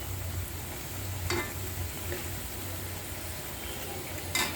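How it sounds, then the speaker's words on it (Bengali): Small cut pieces of sweet pumpkin fry in a pan in a home kitchen. A soft, steady sizzle runs throughout, with a couple of faint clicks and no voices. "মিষ্টি কুমড়া নিয়ে ভাজতেছি।"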